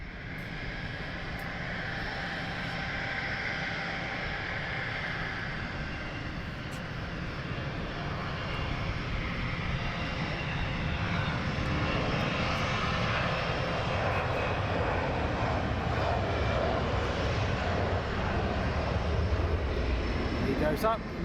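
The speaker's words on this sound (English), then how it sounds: "He goes up, and then the BizJet is taxied past this way. The one just landed." Business jet at London Luton Airport, a steady, fairly distant aircraft engine roar that swells slightly over about twenty seconds amid broad outdoor noise.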